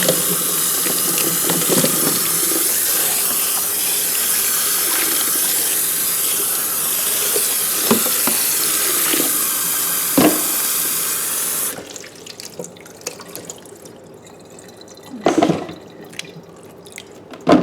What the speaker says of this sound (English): rewash with the blend water